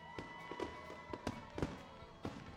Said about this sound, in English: a fantastic fireworks show after each and every Friday home game